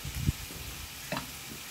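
Leeks, carrot and green chilli sauté in a pan for a vegetable biryani, with a low steady sizzle broken by two short stirring scrapes, close and fairly faint.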